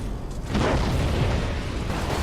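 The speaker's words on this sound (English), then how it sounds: "it's time for some Nova Cannons" Nova Cannon shells detonating in the space strategy game Battlefleet Gothic Armada II, a heavy booming rumble that swells after half a second and rolls on continuously, dense and loud with no voices.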